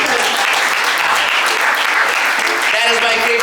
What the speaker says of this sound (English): That is my favorite round of applause.